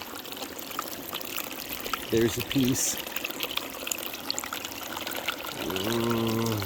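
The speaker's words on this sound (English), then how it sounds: "I'll throw some clean water in there and we'll clear it and see what it looks like" Clean water pours and trickles through a Gold Cube gold concentrator, a steady running wash beneath a brief spoken remark, with a few tonal clanks and a rising hum near the end.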